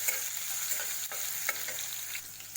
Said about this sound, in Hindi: उसको हम सोटे करेंगे।